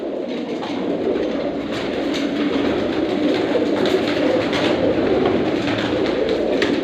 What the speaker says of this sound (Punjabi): ਜਿਹੜਾ ਸਲੇਟੀ ਕਬੂਤਰ ਆ ਜੀ ਬਹੁਤ ਹੀ ਵੱਡਾ ਸਲੇਟੀ ਕਬੂਤਰ